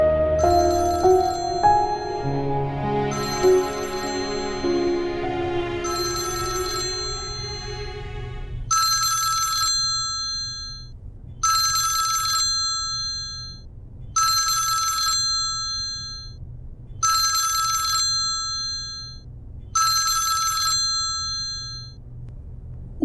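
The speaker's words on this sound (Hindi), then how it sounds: "फोन बज रहा है किसी का।" A phone rings loudly and alone: a melodic ringtone opens, then changes to a repeating electronic bell that sounds in regular bursts, about one every two to three seconds.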